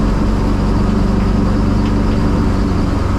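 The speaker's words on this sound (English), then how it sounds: "Turbo noises though," A car back on the road after seven years drives along with a steady low engine drone and faint turbo sounds, close and continuous under acceleration.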